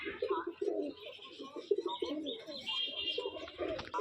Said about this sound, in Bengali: এখানে এক জোড়া কবুতর দেখছেন